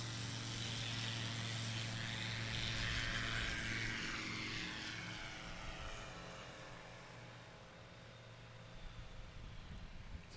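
A Kit Fox light aircraft at a STOL competition at an airpark in Pocola, Oklahoma drones with a steady propeller engine hum that slowly fades as it moves away, with no talking.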